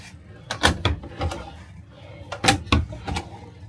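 RV kitchen drawers slide open and shut, two clusters of close clattering thumps and rattles a couple of seconds apart, with quieter handling noise between.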